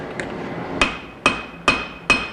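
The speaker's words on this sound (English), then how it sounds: "We'll actually use the cross peen the other direction." A cross peen hammer rings out in five sharp metallic strikes on hot wootz steel while a knife is forged, evenly spaced and close, with a bright ringing tail after each blow.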